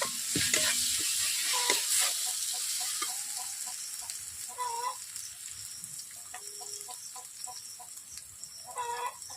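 Chilies and turmeric frying in browned onion-ginger paste for a rohu fish curry, a bright continuous hiss that fades slightly, overlaid by a distant rooster and clucking chickens in the background, no talk.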